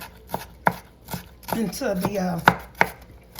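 A knife chops onions finely on a cutting board, sharp close thuds at an uneven pace with a brief scraping sweep partway through, no talking.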